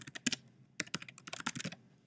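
Rapid close-up typing of a username and password on a computer keyboard, crisp uneven key clicks in quick clusters with a couple of brief pauses.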